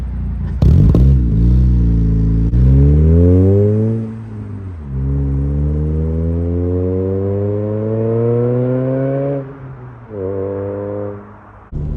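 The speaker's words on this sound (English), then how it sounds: "You get so much supercharger whine, it's awesome." A supercharged Chevrolet Cobalt SS accelerating through the gears on a main road, its engine note rising in long sweeps with a clear supercharger whine, dropping at each shift and climbing again, loud and close.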